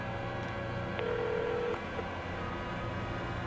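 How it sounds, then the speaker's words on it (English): A telephone rings in the game The Coma 3, a single steady electronic tone lasting under a second over a low droning ambient background. "the phone started ringing."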